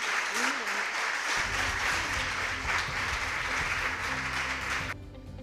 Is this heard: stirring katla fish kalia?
no